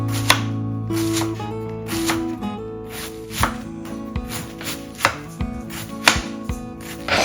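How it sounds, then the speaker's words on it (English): Fermented cabbage with beets chopped with a knife on a board, a series of close, crisp, irregular thuds, about a dozen sharp cuts with background tonal hum. "So I'm going just to chop it."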